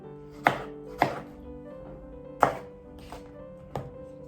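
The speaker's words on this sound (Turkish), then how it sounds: "İri iri domatesleri dildim." A knife chops through large tomatoes and hits a cutting board in five crisp, close knocks at an uneven pace, with no voices.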